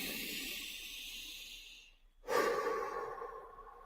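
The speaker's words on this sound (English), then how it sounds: "I'm mouth breathing right now" Deep, slow calming breaths through the mouth, a long airy exhale fading out, then a brief pause before a strong, close inhale that rushes in and slowly tapers off.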